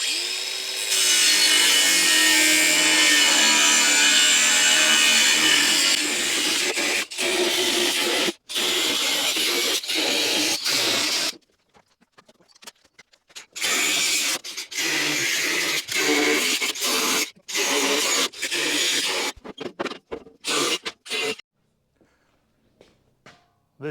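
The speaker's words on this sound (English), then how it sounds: "Well, I guess we ought to cut this crate apart." A power saw cuts through a wooden shipping crate holding a Chinese rock hammer, a loud close rasping drone that runs steadily at first, then breaks into short bursts with pauses in between.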